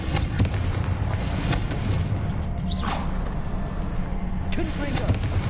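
A Confringo fire spell blasting in Hogwarts Legacy, fiery bursts and booms over a busy game soundscape, with voices speaking over it.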